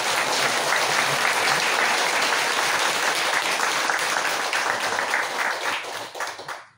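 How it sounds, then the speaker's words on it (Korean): A crowd at a Buddhist dharma service applauds with dense, steady clapping that holds strong for several seconds, then thins out and fades at the end. "그런 점에서 우리 박수 한번 드리겠습니다"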